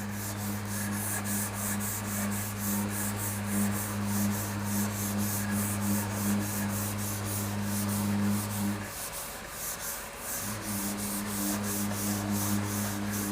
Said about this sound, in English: So there are some fine scratches that are being removed and blocked out.